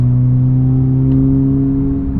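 A turbocharged Audi S3 fitted with a big EQT Vortex XL turbo accelerates hard, its engine holding a steady, loud droning note close to the microphone throughout.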